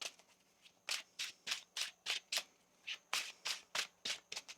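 A deck of tarot cards is riffled and shuffled by hand close up, in a quick series of about a dozen crisp, papery bursts, each a short flutter, some evenly spaced and a few bunched together, quiet with no speech.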